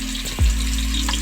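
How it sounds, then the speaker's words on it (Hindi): Chopped onions hiss and sizzle steadily in half a cup of hot oil in a large pot over full flame, a continuous close frying crackle with a brief louder burst near the start. "प्याज आपने अच्छे से फ्राई करनी है"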